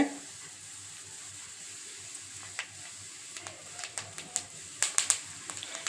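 A spoon of fennel seeds fries in groundnut oil in a kadai, giving faint crackles and small pops that grow more frequent over a few seconds, close and quiet with no talk.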